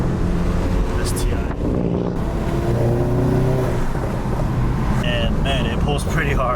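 A Subaru STI on E85 fuel pulls hard under boost, its engine rising steadily in a revving acceleration, with talk over the sound.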